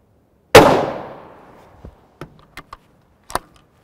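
A single loud, sharp gunshot from a 7.62x51mm NATO 10-grain DAG trainer round fires nearby and rings out in a long decaying echo, followed by several faint clicks and clacks of handling.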